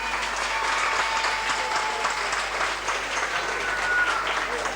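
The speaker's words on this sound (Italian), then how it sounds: "bisogna che noi facciamo un applauso ai nostri commercianti" Steady crowd applause at an outdoor town festival and palio in Paluzza, dense and sustained clapping throughout, moderately loud with a faint tonal whine in the background.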